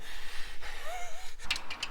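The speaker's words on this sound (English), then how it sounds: "You getting my breathing in?" Heavy, strained breathing close to the mic, deep ragged breaths and a sharp gasp toward the end, with faint mechanical clinks behind.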